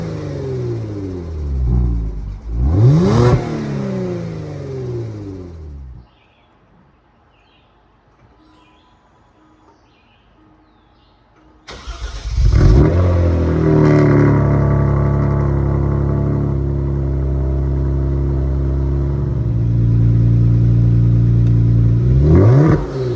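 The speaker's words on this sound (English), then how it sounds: "Now that the car is on the ground, let's do a cold start and see how it sounds." A car with its catalytic converters cut off cold-starts with a sharp revving burst, falls quiet for several seconds, then fires up again into a loud, sustained raw exhaust drone with revs swelling and easing.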